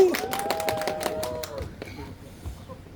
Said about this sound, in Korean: 탄핵의 박수!